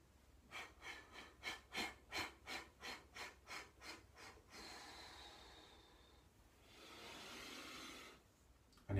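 Slow, steady breathing during a chi kung exercise: about ten rhythmic breaths close up, then a longer drawn-out exhale, with no talk.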